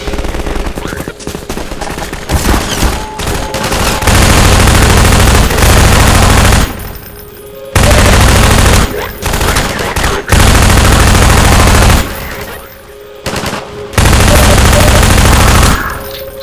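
Heavy gunfire in a Half-Life 2 firefight, dense bursts of automatic shots pounding close and loud in long stretches, broken by brief lulls before the shooting resumes.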